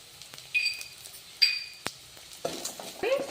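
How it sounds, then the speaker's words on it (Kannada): Sesame, poppy seeds, peanuts and cashews frying in a pan, with a soft sizzle under sharp clinks and scrapes of a spoon stirring against the metal, close up. "ನಾನು ಎಳ್ಳು ಹಾಕ್ತಾ ಇದ್ದೀನಿ, ಕಸಕಸೆ ಹಾಕಿದ್ದೀನಿ, ಶೇಂಗಾ ಹಾಕಿದ್ದೀನಿ, ಗೋಡಂಬಿ ಹಾಕಿದ್ದೀನಿ, ಎಲ್ಲ ಫ್ರೈ ಆಗಿ"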